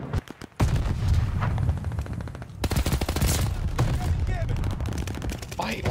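Rapid bursts of automatic gunfire from an online match of the shooter game Vanguard, dense and loud throughout with brief gaps, a few sharp single shots standing out, and a voice talking over the shooting.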